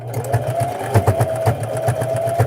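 A sewing machine stitches the closing seam of an infinity scarf in short, rhythmic bursts of needle pulses, close and steady, with no one speaking.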